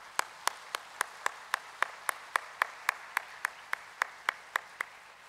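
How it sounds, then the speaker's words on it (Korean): A church congregation claps in unison during a Korean service, producing a steady, evenly spaced beat of sharp claps that stays fairly faint and even throughout. "서로가 축하하며 박수 한번 올려드립시다."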